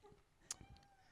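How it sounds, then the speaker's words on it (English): A house cat meows once, faint and brief, in a quiet room with low background noise. "Oh, I have a cat up here."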